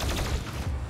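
Rapid gunfire in the Doom Eternal expansion The Ancient Gods Part One: a dense, continuous burst of close, loud shots with mechanical clatter, no voices.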